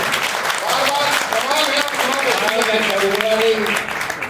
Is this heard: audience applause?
yes